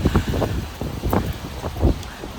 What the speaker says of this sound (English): It's a bit windy today, so I hope you can hear me.